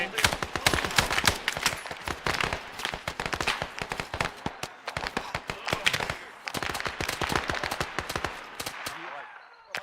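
Rapid bursts of automatic gunfire and scattered single shots crackle through a firefight in S.O.G. Rising Storm Vietnam, dense and continuous over ten seconds, with voices calling out beneath the shooting.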